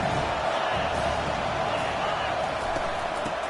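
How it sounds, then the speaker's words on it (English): Stadium crowd in a college football video game, Wisconsin versus Syracuse, a dense continuous roar swelling on third down, loud and enveloping, with commentary voices over it. "Decibels rising as the crowd gets behind this defense on 3rd down"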